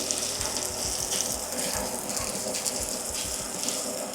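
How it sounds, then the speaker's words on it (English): Potato chips frying in a generous amount of oil, a steady broadband sizzle and hiss with low bubbling pops running continuously and fairly loud throughout, no voices. "Want a good amount of oil because we want to turn these into chips"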